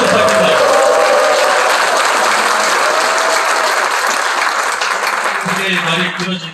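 An indoor audience at a political launch event bursts into loud sustained applause welcoming a speaker, a dense wash of clapping that fades slightly at the very end, with a voice faintly audible beneath.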